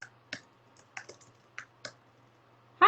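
Computer mouse clicks and keyboard typing, a handful of sparse, faint, close clicks spaced irregularly against a quiet background, ending in a slightly louder burst.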